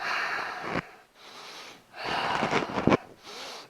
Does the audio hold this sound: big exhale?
yes